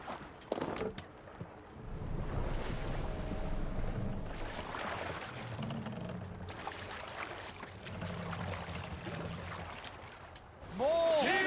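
A Viking longship under sail on the open sea in the video game AC Valhalla: wind rushes over the deck as waves wash against the hull, closing with a soft chime.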